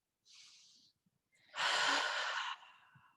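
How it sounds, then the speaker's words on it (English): A person takes one deep breath during a raindrop massage session: a soft, airy inhale, a short pause, then a longer and louder breathy exhale that trails off, close and alone. "Then we're going to take a deep breath."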